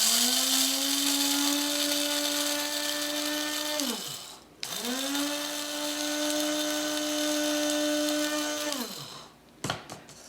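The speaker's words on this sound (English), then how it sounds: "This is just an inexpensive coffee grinder I use to grind the flax seeds." An inexpensive electric coffee grinder whirs loudly as it grinds flax seeds, a steady high motor whine in two long bursts separated by a short pause, then stopping with a few brief clicks.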